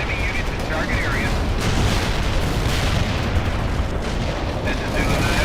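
An artillery barrage in World in Conflict, set during the fall of the Berlin Wall: dense, continuous rumbling booms and blasts pile up in a heavy roar, with radio chatter over the top.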